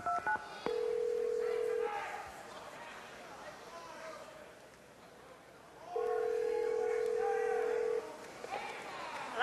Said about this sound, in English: Control room, could you please dial up that winner?